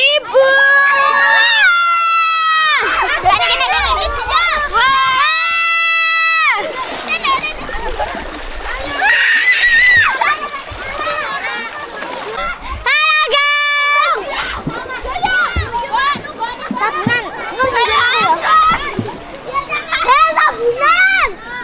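People bathe in a river, splashing water repeatedly while children shout, squeal and chatter loudly and close by throughout.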